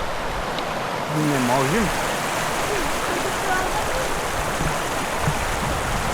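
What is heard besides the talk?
water overflowing the Bryagovo dam spillway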